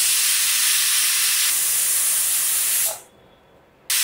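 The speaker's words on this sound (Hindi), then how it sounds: "अब कुकर की लिड लगाएंगे और बस 2 सीटी आने तक वेट करेंगे" A pressure cooker's whistle blows on the stove while arbi (taro root) cooks inside, a loud continuous hissing jet of steam that holds steady for about three seconds, then cuts off abruptly and briefly bursts again.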